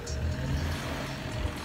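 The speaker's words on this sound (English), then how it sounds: "There's a truck coming here." A truck approaches along a road, a faint low rumble of engine and tires that stays steady and distant through the short stretch, with no talk over it.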